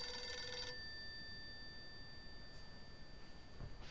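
An old-fashioned telephone bell rings in the horror video game Darkghost, one short burst of harmonic ringing that stops abruptly, followed by quiet room tone with faint noise.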